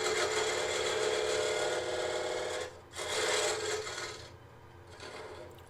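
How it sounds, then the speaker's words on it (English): A scraper rasps steadily against the inner walls of a wooden box spinning on a lathe, a close, continuous scraping with two brief pauses between passes. "I come back and use a scraper to kind of clean up the walls a little bit."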